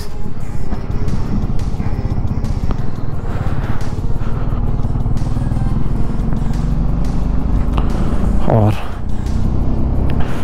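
A BMW G310RR motorcycle engine drones steadily and loudly as the bike climbs uphill through heavy snow on a high mountain pass, with the engine running hot. The engine note holds without a break throughout, with wind rumble underneath.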